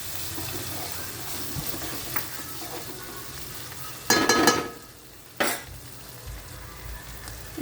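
Ginger-garlic masala stirred in a pan for egg masala, a low sizzle with two louder bursts of scraping stirs partway through, no talking.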